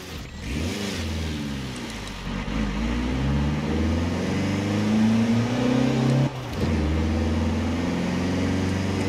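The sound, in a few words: Toyota Land Cruiser Arctic Truck driving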